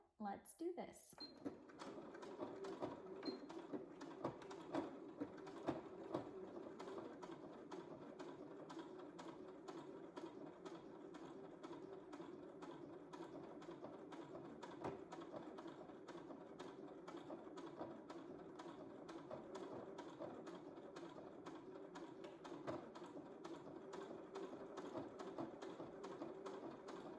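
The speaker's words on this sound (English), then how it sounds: "So what we're going to do is top stitch the front and the back." A sewing machine top stitches a snap placket, running in a steady, close, rapid mechanical whir of needle strokes for the full length with no pauses.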